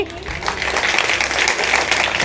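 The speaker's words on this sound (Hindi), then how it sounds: "एक जोरदार ताली" An audience at a public event for a girls' welfare club breaks into a dense, steady wash of clapping that carries through the whole moment, with a voice faintly present underneath.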